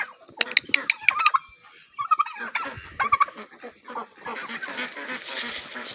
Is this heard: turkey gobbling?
yes